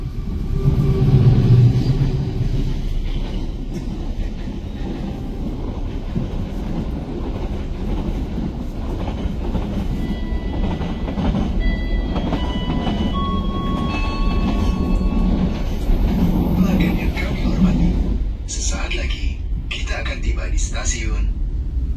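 The Gumarang business class train rolls along the rails near Tegal station with a continuous low rumble and rhythmic rail noise heard from inside the carriage. Voices murmur underneath, and a few brief higher clanks come near the end.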